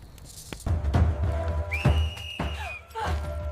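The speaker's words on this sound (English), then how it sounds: "A Nandi sentry spotted Nyaloka stumbling toward the camp and whistled sharply" A sharp, sustained whistle from a sentry at a camp rises over a low rumbling background, ringing clearly for about a second with shorter whistled fragments after it.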